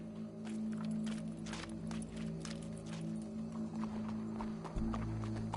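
Horse hooves clip-clop in a steady walking rhythm in Red Dead Redemption 2, close and moderately loud over a low ambient drone with faint background sounds.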